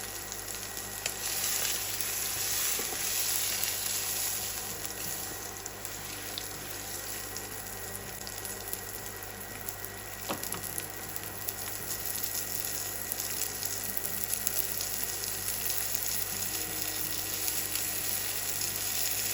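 A sesame-crusted tuna steak sears in garlic and lemon flavoured oil, making a constant, even hiss that stays close and fairly quiet throughout with no talking.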